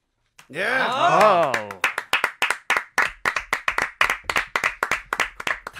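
Rhythmic group clapping on a Korean traditional music show for Hangul Day, steady beats in time following a vocal exclamation at the start, crisp and close.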